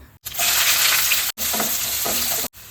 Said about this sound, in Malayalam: ഇനി കടുവ് വറക്കാം കടുവ് വറുത്ത് മുളക് പൊടിയും ഒക്കെ ചേർക്കാം